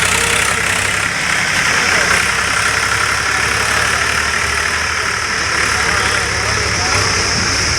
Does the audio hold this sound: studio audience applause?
no